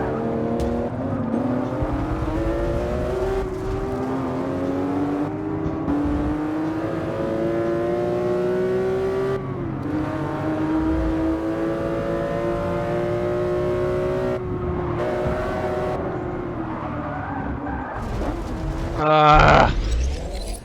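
A Porsche race car engine in the racing game Forza 6 drones loudly and steadily for the whole stretch, pitch climbing through gear changes with brief shift dips, and a sharp rev or skid burst near the end.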